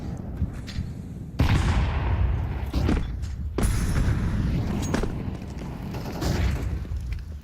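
HE grenade blasts in a Counter-Strike match, several loud booming detonations landing a second or two apart, each with a broad crack and rumbling tail over steady background noise.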